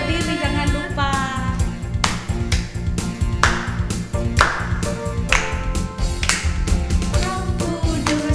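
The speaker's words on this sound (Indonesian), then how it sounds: "Adik-adik tepuk tangan ya." Children in a Sunday school class clapping their hands in a regular rhythm along with a sung worship song, sharp claps recurring about once a second.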